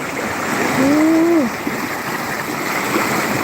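Clear stream water flows steadily at Pha Rom in Vang Vieng, Laos, a close, even rushing wash; one brief tonal sweep rises over it partway through.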